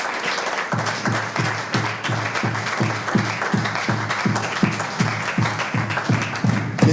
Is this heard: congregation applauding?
yes